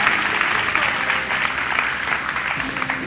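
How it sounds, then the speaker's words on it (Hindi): A studio audience at a Ramzan iftar transmission claps in a dense, continuous burst of applause, loud and close, with faint voices mixed in. "ताली बजा जाते"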